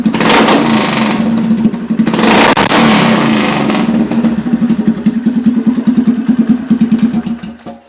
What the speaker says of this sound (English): I'll give it a little bit of a rev.